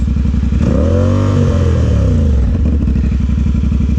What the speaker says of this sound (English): when you rev and turn the throttle, it's supposed to go